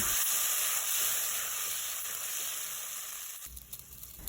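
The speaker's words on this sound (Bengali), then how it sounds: "ওই তেলের মধ্যে দিয়ে দেব ফোড়ন ফোড়নে দিচ্ছি গোটা জিরে এলাচ দারচিনি দুটো শুকনো লঙ্কা আর একটা তেজপাতা" Whole cumin, cardamom, cinnamon, two dried chillies and a bay leaf crackling in hot oil for a vegetarian Bengali dish, a loud continuous sizzle close by that shifts and thins near the end.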